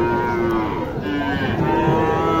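Cattle low loudly and close at a busy bull calf market in Naogaon, Bangladesh, with a long drawn-out moo over a dense background of crowd murmur and livestock noise.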